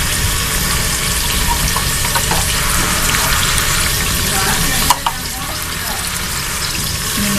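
Minced keema and onion frying in a pan as ginger garlic paste is added, a loud, steady hiss and sizzle throughout with a brief clatter midway, close up and alone.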